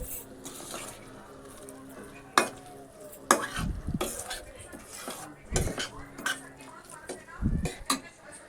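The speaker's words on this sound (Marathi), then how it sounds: "चांगलं मिक्स करून घ्यायचं." A spoon stirs and mixes Malvani prawn rice in a sizzling pan, with scraping clinks and sharp knocks against the metal at irregular intervals over a low, steady frying hiss.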